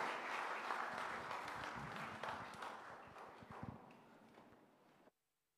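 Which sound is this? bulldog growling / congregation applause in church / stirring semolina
congregation applause in church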